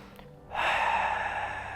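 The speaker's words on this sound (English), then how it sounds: "And as you exhale" A person exhales a full, long breath, a soft airy rush that starts abruptly and holds steady for over a second, close and alone.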